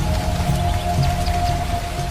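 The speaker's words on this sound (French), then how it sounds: "La pluie dans le parc national de Banco rend la jungle incroyable" Steady rain falls over the jungle of Banco National Park in Abidjan, Côte d'Ivoire, heard from a car on a forest drive: a dense, even hiss of drops with a low rumble underneath, continuous and fairly loud, with no voices.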